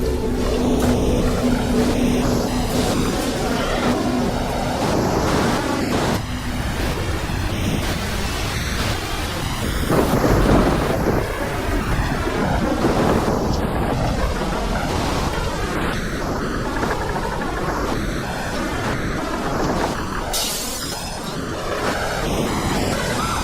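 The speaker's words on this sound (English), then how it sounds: "Winds are now gusting at over 75 miles per hour." Cyclone Ida's winds gusting past 75 miles per hour with driving rain, battering a coastal reef town: a loud, continuous roaring wash of wind and rain with surging gusts and no voices.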